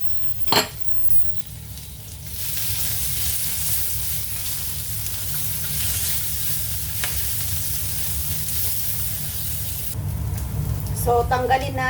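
Pork fat frying in cooking oil in a pan, a loud, continuous close sizzle with a sharp clink near the start and faint utensil scrapes toward the end; a voice is faintly present.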